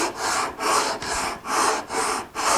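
Hand sanding with 80 grit paper takes blade marks off a wooden guitar neck cradle, producing rhythmic back-and-forth scratchy strokes, about five close, steady passes with brief gaps between them.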